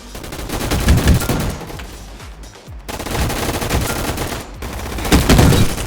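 Gunfire from the online shooter game GunFight Arena crackles in loud, rapid automatic bursts, with short pauses between volleys and no talking.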